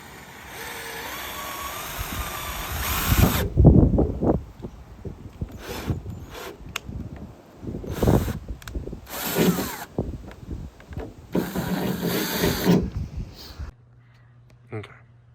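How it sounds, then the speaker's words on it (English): A power drill bores holes for a hood stack on a Cummins-powered vehicle, whining in several short, loud bursts separated by pauses, with someone talking between and over the drilling. "Now to drill some holes."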